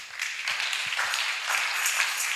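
Audience applause, a steady wash of clapping hands at moderate distance lasting a couple of seconds without a break.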